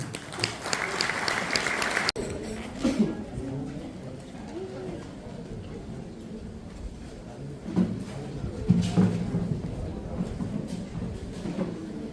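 Applause from the audience at an anniversary event of a Guarani language and culture institute in San Juan Nepomuceno, a brief burst of clapping that gives way to quieter murmuring and scattered sounds.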